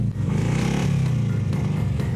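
An old police car left about 40 years in the woods, its engine idling steadily and close by with a low, even rumble and some light mechanical clatter, no voices over it.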